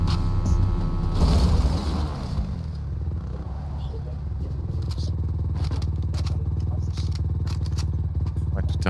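A motorcycle in the video game Fortnite, with a loud engine rumble and scraping clatter at the start, then a steady low engine drone with clicks, while players talk over it.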